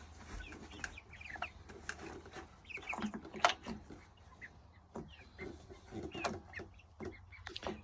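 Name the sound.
young chickens clucking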